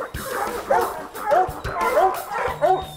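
A hunting hound bays at a bear it has treed, giving four or five loud, rhythmic barks close by with short pauses between them, over faint outdoor background noise.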